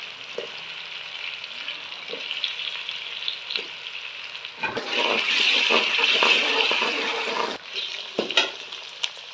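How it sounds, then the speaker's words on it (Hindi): Potatoes roasting with onions and ginger-garlic paste in a pan, a close crackling sizzle with stirring knocks that swells louder for a few seconds midway, then settles back, no voices. "अब इसी के साथ हम थोड़े से पोटैटो जो हैं इनको भी रोस्ट कर लेंगे इसमें"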